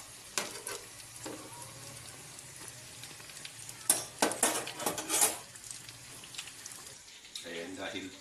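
Breaded pork sizzles steadily in hot frying oil while utensils clatter against the pan as the pieces are turned, with a voice talking over the cooking.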